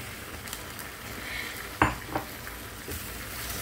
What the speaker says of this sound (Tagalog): tapos haluin natin para lalong sumara ang ating adobong saksak sinagol